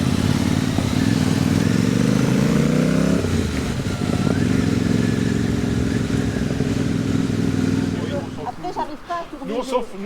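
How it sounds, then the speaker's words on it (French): BMW motorcycles ride along with a loud, steady engine drone that shifts pitch as speed changes, then ease off at the end. Wind buffeting and a rider's voice break in near the close. "Il y a plein de motos."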